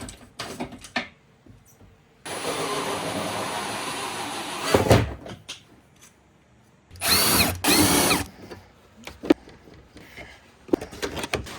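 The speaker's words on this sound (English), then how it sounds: "We gotta remove this windshield so I can drill my hole for the defrost." A power drill bores a hole for a defrost duct on a Can-Am Defender HD10 side-by-side, with a long steady whir followed by short, louder bursts and scattered clanks of handling.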